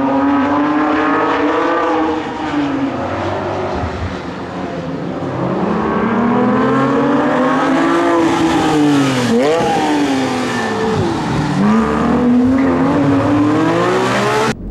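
A 2010 Porsche 911 GT3 RS engine roars loudly and steadily while driving, rising and falling in pitch through gear changes and blips with heel-and-toe downshifts, heard up close with no talk.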